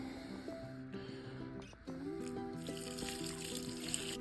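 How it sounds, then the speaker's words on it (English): Brine is poured over shredded cabbage in a jar for homemade sauerkraut, a steady splashing trickle running throughout beneath soft background music. "Now we're going to add the brine."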